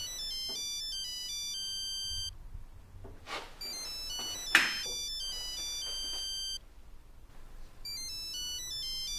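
A mobile phone ringtone plays a bright, repeating electronic melody that stops and restarts, with thumps and rustling partway through and no speech.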